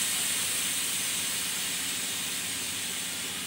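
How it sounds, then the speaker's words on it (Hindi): Steady, close hiss of steam escaping from a pressure cooker whistle while cooking rice pulao, a constant airy rush that fades only slightly over a few seconds, with no talking. "इसे थोड़ी सी सीटी बची है वो आपको निकाल देनी है"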